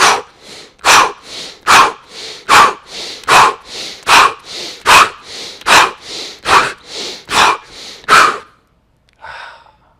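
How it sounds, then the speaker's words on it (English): Rhythmic piston breathing exercise: about fourteen quick, forceful breaths, in through the nose and out through the mouth, close and loud in an even pulse, then a pause and one softer breath at the end. "You noticed that I took a breath in through my nose, breath out through my mouth."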